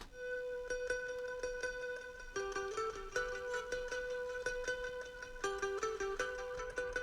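Electric guitar playing a repeating melodic riff, each note followed by echoing delay repeats, steady and moderately loud throughout with no voices.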